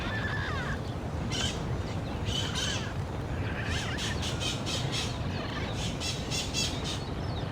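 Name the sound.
parrots squawking in the video game Civilization VII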